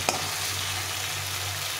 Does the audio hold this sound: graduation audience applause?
no